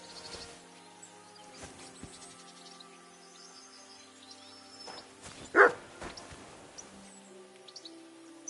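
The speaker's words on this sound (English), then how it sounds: "Barking." Dog barking in the video game Kingdom Come: Deliverance 2, a single short bark standing out at mid-distance over a quiet ambient bed of insects and birds.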